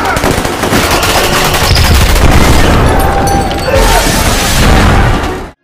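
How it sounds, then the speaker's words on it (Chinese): Soldiers in a sci-fi action film fire back at an armored attacker, producing loud, dense bursts of machine-gun fire and booming impacts that continue almost without a break before cutting off abruptly. "士兵们调转枪头疯狂还击"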